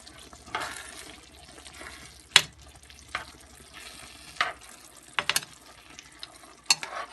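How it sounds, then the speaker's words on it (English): Seafood such as calamari and mussels cooking gently in a paella pan, with a steady soft sizzle broken by several sharp clinks and scrapes of stirring, close up and without talk. "I'm going to be adding the seafood in. So the seafood can cook gently."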